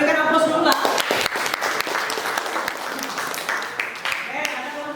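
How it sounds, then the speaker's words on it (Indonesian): Classroom audience applauding after a group presentation, a dense, steady patter of many hands clapping at close range, with voices mixed in underneath. "Silakan kita berikan aplaus dulu lah."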